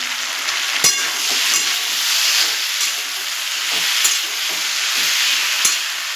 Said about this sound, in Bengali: সবজিটা ভালো ভাজা ভাজা হয়ে গেছে